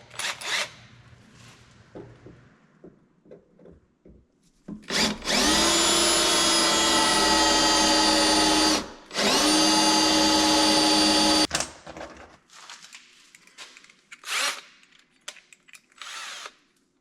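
A power drill bores a pilot hole in wood with a loud, close, high whine that runs steadily for several seconds, stops briefly, then resumes before cutting off, with quieter handling knocks before and after.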